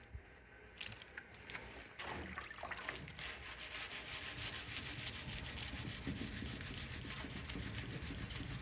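Wet balled-up material rubbed steadily across a chrome bumper to clear pitting, giving a continuous scratchy, gritty friction sound close up, starting after a brief pause and going on without any voices.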